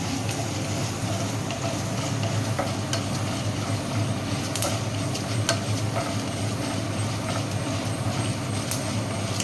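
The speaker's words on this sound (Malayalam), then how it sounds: "നന്നായിട്ടൊന്ന് ഇളക്കണം" Lentils stirred into an elephant foot yam stem stir-fry, a steady dense sizzle and rustling stir running the whole time with a few faint metallic ticks, close and even, with no talking.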